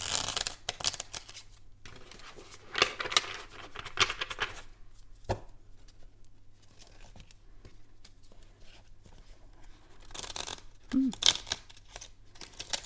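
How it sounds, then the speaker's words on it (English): Quick bursts of riffling and flicking cards, a few separate shuffles with short pauses between, close by and fairly quiet. "Trying to shuffle on camera is hard."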